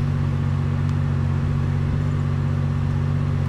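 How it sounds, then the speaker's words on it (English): A car engine droning steadily through a handbrake turn in the survival video game DayZ, a loud, even mid-pitched hum that persists for the whole stretch with a faint scrape near the middle. "That was a nice handbrake turn"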